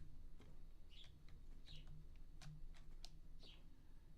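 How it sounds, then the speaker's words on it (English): A single bird gives short, high chirps, three clear calls spaced over a few seconds. It is faint against a steady low background hum, with sharp scattered clicks and ticks nearby. "Anyone else heard this bird just being loud for like no damn reason?"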